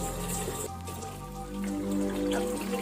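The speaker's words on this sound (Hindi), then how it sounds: "हम 3 पाव लेके चावल 2 लोटा पानी ऐड कर रहे हैं।" Water is poured steadily into a pot of gravy for mutton tahari rice, a soft continuous splashing and trickling heard close and fairly quiet.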